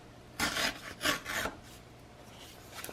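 Paper torn in a straight line along a ruler for a mini album pocket page, heard as three close, rasping rips in quick succession before quiet.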